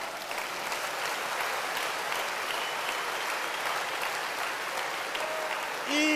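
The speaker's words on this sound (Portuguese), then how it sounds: "Se você crê nisso, dê um forte aplauso ao Senhor." Church congregation clapping together in steady, dense applause that holds at an even level throughout, filling the space with continuous crowd clatter.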